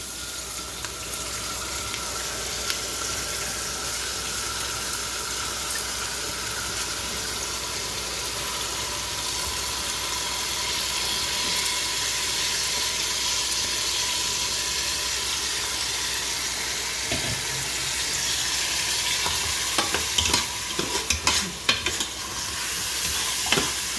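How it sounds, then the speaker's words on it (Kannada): Rice and moong dal stirred in a pot while cooking Gujarati kadhi khichdi, giving a steady sizzling, scraping texture throughout, with a few sharper clanks of the spoon near the end and no talking. "ಈ ಥರ ಹೆಸರು ಬೇಳೆ ಮತ್ತು ಅಕ್ಕಿ ಎಲ್ಲ ಈ ಥರ ಮಿಕ್ಸ್ ಮಾಡಿ"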